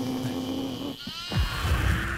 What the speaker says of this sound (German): Oh mein Gott, hier sind so viele Ziegen.